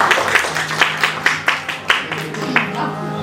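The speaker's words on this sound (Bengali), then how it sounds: "তো আমরা হাফসা আপার জন্য একটা বড় করে হাততালি দিই।" An audience claps at a Bangladesh Centre New Year celebration event. A short burst of fairly close, brisk, irregular clapping from a modest crowd lasts a few seconds, with no talk over it.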